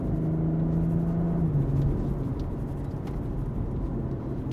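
A BMW M340i cruising at a steady, easy pace gives off a continuous low, bassy engine rumble, with a droning tone that sags slightly partway through over constant road noise from inside the car.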